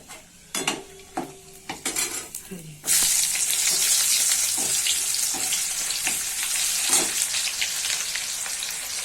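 Chopped onion dropped into hot oil with bay-leaf tempering for a yogurt katla fish curry. A few utensil clinks come first, then a loud, steady sizzle bursts in and keeps going close by.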